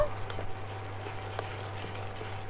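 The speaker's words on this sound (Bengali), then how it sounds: "এবারে এতে দেব অল্প একটু জল মশলাটা পুড়ে যাচ্ছে একটুখানি কষানোর জন্য ভালো করে কষিয়ে নেব" Spices fry in a pan with a little water added, a low steady bubbling sizzle close by with faint scattered crackles and no voices.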